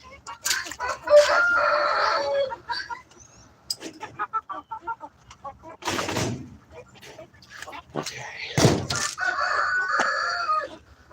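Small chickens cluck and crow close by in bursts of varied calls. A person speaks briefly among them.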